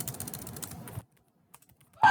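Rapid clicking of keys on a computer keyboard for about a second, then near silence with a few isolated taps.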